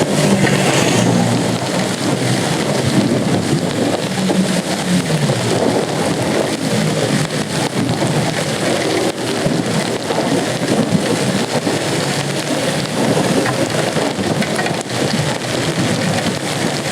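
Heavy, steady rain pours down during an extreme-weather race, a dense unbroken hiss lasting throughout with no voices.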